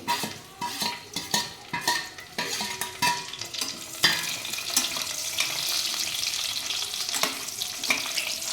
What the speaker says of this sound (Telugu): ఈ హోల్ గరం మసాలా మొత్తం కూడా వేసేసుకొని స్విమ్లో వేయించుకుందామండి